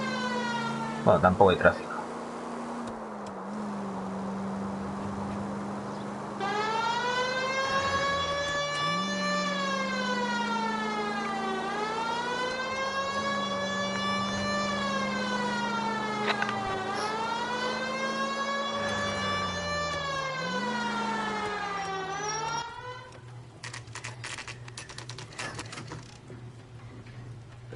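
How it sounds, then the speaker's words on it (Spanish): Police car siren from the video game L.A. Noire wails in rising and falling sweeps over a low engine hum, loud and continuous, with someone talking briefly at the start. "La sirena acompaña mucho lo que estoy haciendo."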